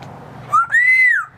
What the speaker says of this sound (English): Ooh, a whistle.